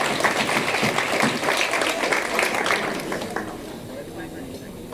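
An audience at a law faculty awards ceremony applauds a recipient called to the stage, dense close clapping for about three seconds that thins and fades away.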